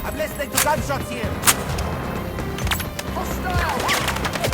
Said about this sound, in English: I'm listening to gunshots here.